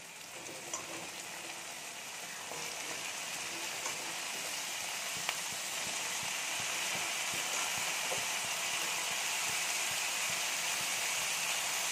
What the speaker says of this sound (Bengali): আলুগুলো ঢাকা চাপা দিয়ে একটু ভাজা ভাজা করে নেব।